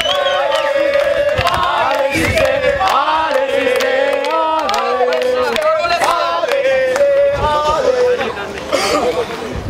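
A crowd at a shooting contest cheers and shouts loudly to encourage a contestant, a dense continuous roar of voices and whoops with an amplified announcer speaking over it throughout.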